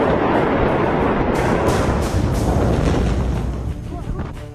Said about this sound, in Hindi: तभी अचानक विस्फोट होता है और छत, दीवार, अंदर रखे सामान सब कुछ एक पल में बिखर गए